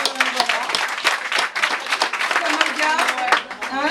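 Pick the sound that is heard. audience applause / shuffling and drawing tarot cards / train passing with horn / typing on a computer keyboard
audience applause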